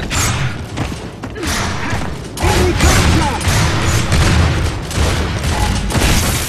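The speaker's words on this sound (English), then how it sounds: "I throw some bad grenades and stuff" Loud game explosions and gunfire from a Gears of War 3 two-versus-two online match, with dense booming blasts and mechanical clatter running continuously and heavier impacts from the midpoint on.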